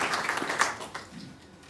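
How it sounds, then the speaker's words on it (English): Audience applause at a quarterly company speech for the spiritual team, a brief spread of clapping from many people that tapers off within a second or two. "So a big applause to the spiritual team for achieving this."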